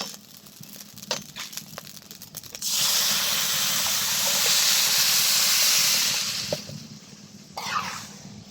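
Water hits frying rice in a hot pan and bursts into a loud, steady steaming hiss lasting several seconds, then fades, with small clinks before and a brief splash near the end.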